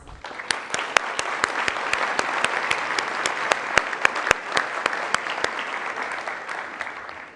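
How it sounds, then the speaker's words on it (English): Steady, dense applause fills a hall at a spring induction-to-the-profession ceremony, with several loud close claps standing out sharply against the crowd before it gradually eases off. "So give yourself a round of applause."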